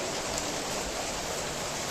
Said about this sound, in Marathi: बघा बाहेर पाऊस चाललाय मस्त पैकी